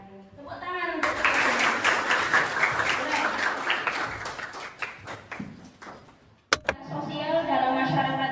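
A burst of hand clapping from a school class, loud and dense, fading out after several seconds with a sharp tap near the end.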